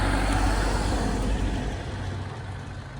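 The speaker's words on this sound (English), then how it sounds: "Listen, when this car goes past." A car passes on an outback track with a slightly odd engine note, a loud broad roar close by that slowly fades as it moves away, with no talk over it.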